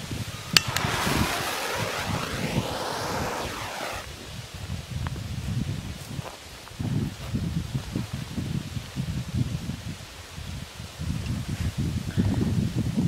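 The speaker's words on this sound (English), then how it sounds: "As you can probably hear, the wind is pretty strong right now" Strong outdoor wind gusting steadily into the microphone, a loud rumbling buffet with rustling, rising and falling in waves throughout, with no voices.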